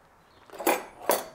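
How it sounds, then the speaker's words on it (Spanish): Metal cutlery clinks in a kitchen drawer, two bright, close clattering jingles in quick succession against a quiet room. "aquí tenemos en este primer cajón la cubertería"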